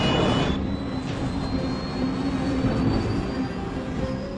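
A struggling airplane's engine roars continuously and loudly with a steady droning whine and shifting high tones, with no voices over it.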